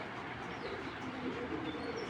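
Original bidder pigeons coo softly in a brief, faint, low murmur against a quiet background.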